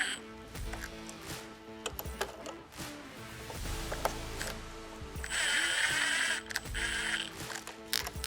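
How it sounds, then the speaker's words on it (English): A ratchet clicks in quick bursts while snugging windshield mounting hardware on a Can-Am Commander side-by-side, with soft metallic taps and handling noise in between; close and fairly quiet. "I'm just going to snug it up a little bit here."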